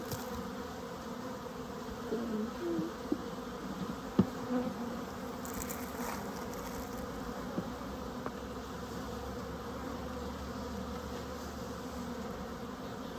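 Honeybees from a package being installed in a top bar hive make a soft, steady buzzing hum close by, with a few faint knocks and rustles over a quiet background.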